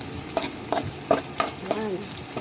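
Onion and ginger sautéed in a pan for ginataang tulingan, a low sizzle broken by rhythmic scraping strokes of a spatula about every third of a second, fairly quiet and close.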